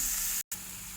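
Onions frying in oil for South Indian tomato rice, giving a steady, bright sizzling hiss that cuts out for a split second before resuming.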